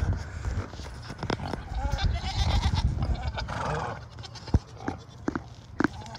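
Goats at a large goat ranch bleat in scattered short calls over a busy outdoor background, with louder nearby cries toward the end.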